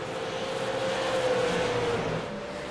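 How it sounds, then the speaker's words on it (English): A super late model race car with a huge engine roars around the New Smyrna track during a Crown Jewel race. The steady, loud engine drone swells as the car passes, then eases off toward the end. "I love the sound of these cars."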